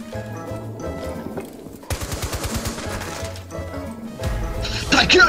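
Gunfire in Rainbow Six Siege, a tactical shooter game, comes as rapid bursts of shots that build louder toward the end, over game sounds, with voices talking throughout.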